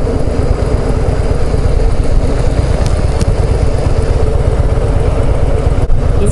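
Motorcycle engine running steadily throughout while riding a curvy rural road in winter, a loud, continuous low rumble with no pauses.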